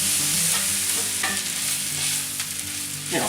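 Meat for a chili cheese dog, with Worcestershire sauce added, sizzles loudly in a pan while a utensil scrapes and stirs it in close, steady strokes.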